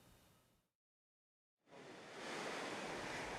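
Large storm waves surging over a seaside breakwater during a typhoon, a loud broadband roar of surf that cuts out briefly and then returns as a sustained, heavy wash of water.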